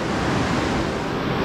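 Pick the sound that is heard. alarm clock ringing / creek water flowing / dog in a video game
creek water flowing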